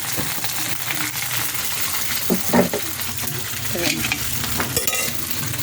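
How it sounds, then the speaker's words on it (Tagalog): Rice with hotdog fries in a pan for sinangag, a dense sizzle throughout with scraping stirs and occasional clinks of the utensil, loud and close. "Magsangag ako ng kanin."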